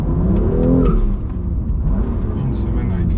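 A BMW M2 Competition's engine revs loud and close while the car drifts, rising then dropping in a droning rumble with a voice talking over it.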